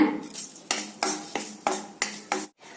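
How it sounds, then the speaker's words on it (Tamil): Curry leaves dry roasting in a pan, heard as repeated close scraping strokes of a spatula against the metal, about six rhythmic bursts with a faint crackle between them and no talk. "கருவேப்பில் பாருங்க இந்த மாதிரி நல்ல மொறு மொறுன்னு ஆகிற மாதிரி வறுத்துருங்க"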